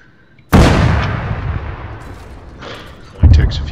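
M2A2 Slammer UP tank cannon firing in the video game Arma 3, two heavy booming shots about three seconds apart, each a sharp loud blast with a rolling decay, close and prominent.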